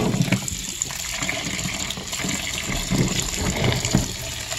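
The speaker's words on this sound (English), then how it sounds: "So this is going to be some warm water." Warm water pours from a tap into a container with Dawn dish soap, set up to soak grimy carburetor parts from a 1995 Arctic Cat ZR 700 snowmobile. The gushing is steady and close and runs throughout with no talk.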